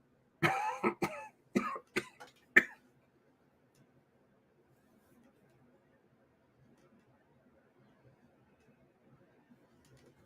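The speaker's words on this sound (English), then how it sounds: "I'm having a tough time with my cough here" A man coughing in a hearing room: a cluster of five or six harsh, close coughs in quick succession, then near silence.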